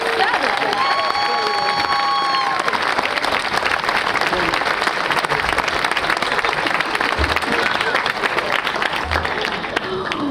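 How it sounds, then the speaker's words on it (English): Sustained audience applause for 7th and 8th graders at a Southern Maryland National Heritage Area launch event, a continuous even roar of clapping with a brief whistle near the start, steady and loud throughout. "applause, everybody"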